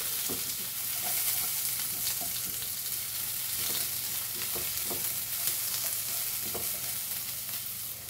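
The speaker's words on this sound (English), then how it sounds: "Let's saute this onion for a few minutes till the rawness goes." Onion sautés in a pan for a Goan knol kol bhaji, a steady close sizzle with soft, irregular spatula scrapes and light ticks every second or so, no voices.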